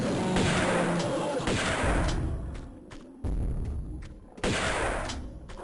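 Grenade launcher fire in Tomb Raider II Remastered during a T-Rex fight: several loud booming blasts, one after another, over a dense rumbling game soundscape.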